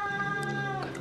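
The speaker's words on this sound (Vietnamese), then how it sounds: "Con mèo con này." A kitten meows over a steady mix of tonal background noise at a family meal, a short mewing call that sounds close but fairly faint, with no speech.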